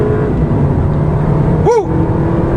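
A turbocharged 2014 Volkswagen Beetle R-Line accelerates in sport mode, heard as a steady, loud engine drone from inside the car, with a brief excited vocal whoop near the end.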